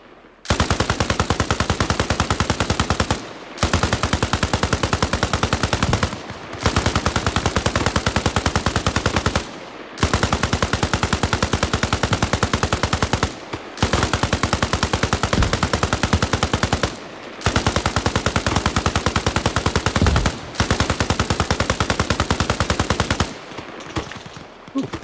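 Sustained automatic gunfire in the military video game Arma Reforger, with 40 mm grenade launcher fire: long loud bursts of rapid shots separated by brief pauses, repeating about seven times and dominating throughout.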